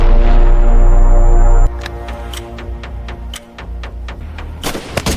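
Gunfire in a shootout, a rapid string of sharp cracking shots, loud and close, coming after a dense roar that stops abruptly, with no voices.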